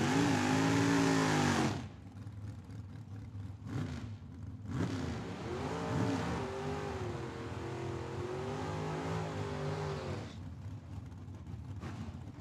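Drag racing cars at Tucson Dragway during the Cactus Clash, heard as a loud roaring engine burst that cuts off abruptly, then a steadier rumbling engine drone with shifting revs, rising again near the end.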